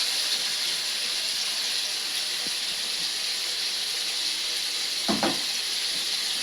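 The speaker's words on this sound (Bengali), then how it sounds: "মশলাটা দেওয়ার পরে কষাকষি হচ্ছে সবজির সঙ্গে" Turmeric and cumin paste sauté in oil with ridge gourd for a thin rohu fish curry. A soft, steady hiss of sizzling runs throughout, with one brief utensil clatter near the end.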